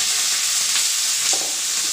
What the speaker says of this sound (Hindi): तेल हमारा गर्म हो गया है, इसी में हम जो ये सेम की फली काट के रखे थे इसको इसी में ऐड करते हैं